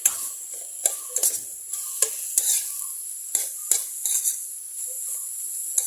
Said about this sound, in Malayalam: ഇനി നമുക്കിത് നന്നായിട്ടൊന്ന് മിക്സ് ചെയ്യാം